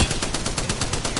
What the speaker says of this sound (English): I am taking fire, friends.